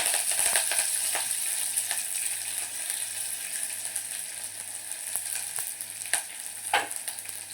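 Small onions and curry leaves frying in hot oil for a ridge gourd stir-fry, a continuous close sizzle with scattered crackles and occasional clinks of stirring, no talk.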